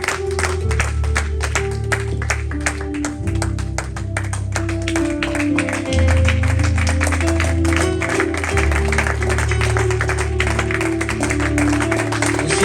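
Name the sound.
congregation giving loud applause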